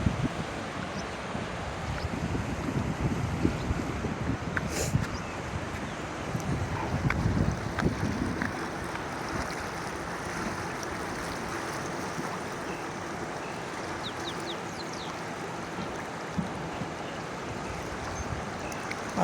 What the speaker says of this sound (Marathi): पाणी भरपूर लांबून येतं आहे